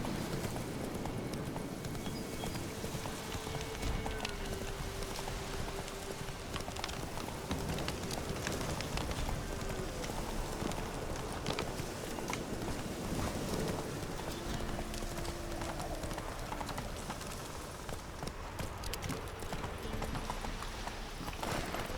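Roach, the horse in The Witcher 3: Wild Hunt, gallops with steady rapid clip-clop hoofbeats throughout, close and continuous over a dense bed of game ambience and music.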